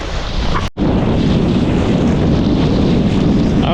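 Gusty wind roars steadily across the microphone while a Flysurfer Sonic 5 foil kite is flown on the water, loud and broadband with one brief dropout, no voices.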